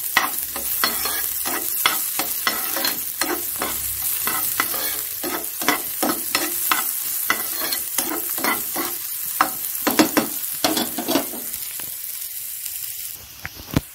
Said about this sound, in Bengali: এখানটা একটু তেল দিয়ে দিলাম, কেন আমি পেঁয়াজটা ভাজতে ভুলে গেছি